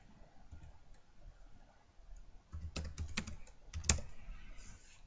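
Typing on a computer keyboard while working in Excel 2013: soft, irregular clusters of close key clicks in the middle of the clip, with one sharper tap near the end, over a quiet room with no talking.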